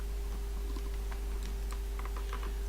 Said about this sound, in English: the clicking sound. Because it's mapped as the trigger on my joystick